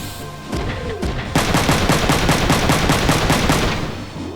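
Mech gunfire in the Front Mission 3 video game: a couple of heavy shots, then a loud rapid burst of automatic fire in an even rhythm that runs for several seconds before trailing off.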